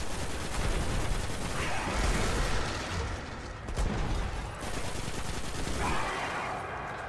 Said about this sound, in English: Jump up and start shooting